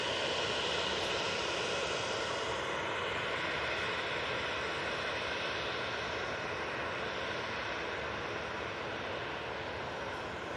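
Airbus A320neo jet at Manchester Airport, heard as a steady, loud, broadband engine roar that holds constant throughout.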